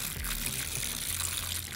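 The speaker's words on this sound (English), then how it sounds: "I needed to fill up his water bowl anyway" Water poured into a tarantula's water bowl and onto its moss, a soft continuous trickle and splash heard close up for about two seconds with no talk.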